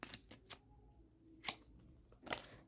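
Tarot cards riffled and shuffled in a few quick bursts, crisp close-up fluttering with short pauses between, in a quiet room.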